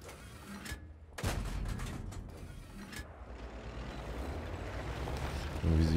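Several sharp, booming tank cannon shots fire at irregular intervals in a World of Tanks battle, followed by rumbling engine noise and mechanical clatter.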